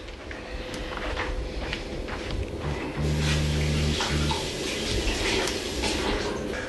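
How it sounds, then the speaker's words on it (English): Running tap water pours steadily while hands are rinsed under it, a soft continuous splash over a low background hum that grows a little louder midway. "Let me just rinse off my hands."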